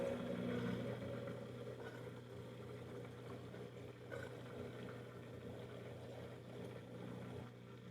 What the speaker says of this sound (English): there's got to be a secondary pump in there that kicked on to make sure all the water was out